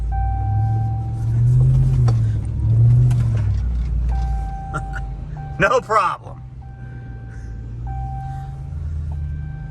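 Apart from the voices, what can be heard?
work truck driving up a muddy hill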